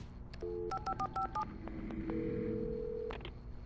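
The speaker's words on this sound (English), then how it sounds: "here's a phone right here" In the game Alan Wake Remastered, a quick run of touch-tone phone dialing beeps, one after another, followed by a single longer held tone.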